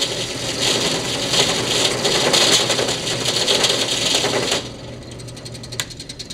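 A steady, loud mechanical grinding and whirring of a drill boring a yo-yo runs continuously, then drops off sharply near the end, leaving a quieter hum with faint clicks.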